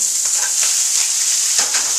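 Shrimp cooking in a lightly oiled pot on a lowered flame, a loud close steady sizzle with a bright hiss and a few soft stirring scrapes, no voices present.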